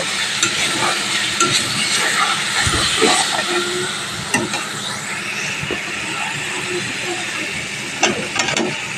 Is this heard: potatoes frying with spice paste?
yes